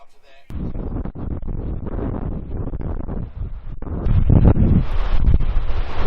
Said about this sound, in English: It's quite windy and bloody cold.